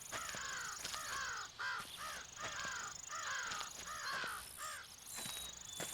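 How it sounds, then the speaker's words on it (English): Several crows caw repeatedly in rhythmic bursts of harsh calls, moderately distant, over a faint steady insect-like hiss, in the hunting video game Cabela's Big Game Hunter 2005 Adventures. "I hear crows, but I do not see crows."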